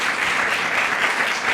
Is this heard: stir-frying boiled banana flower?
no